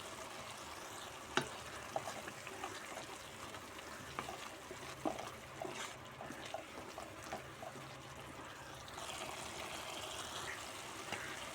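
Paneer and green peas masala curry cooks in a pan, a soft, continuous sizzle and bubbling with scattered light clicks and scrapes of stirring, close but fairly quiet.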